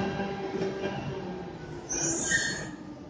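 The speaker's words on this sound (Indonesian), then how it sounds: "inilah kereta yang akan kita naiki" Subway train pulling into a station in Nanjing, China: a steady rumble of rolling carriages with high metallic wheel squeal rising toward the end, heard close and fairly loud.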